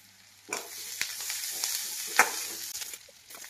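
Green chilies and onion frying in a pan for a dhaba-style cashew paneer gravy, a steady sizzle broken by a few sharp clinks of a stirring spoon against the pan, close and moderately loud.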